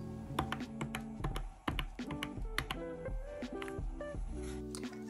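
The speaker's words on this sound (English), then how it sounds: "they have this clicky feedback when being pressed, making them very fun to use" Clicky self-inking stationery stamps are pressed repeatedly, giving a quick series of sharp, close plastic clicks and taps in an uneven rhythm, fairly quiet overall.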